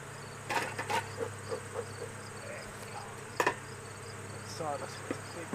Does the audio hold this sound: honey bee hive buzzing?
yes